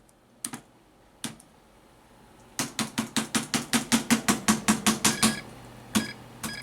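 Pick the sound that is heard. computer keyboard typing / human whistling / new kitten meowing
computer keyboard typing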